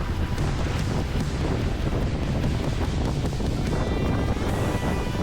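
Wind gusting across a catamaran sailing at about 9 knots in roughly 20-knot wind on the way to Bora Bora, a loud steady buffeting wind roar over the microphone with faint water rush, no talk.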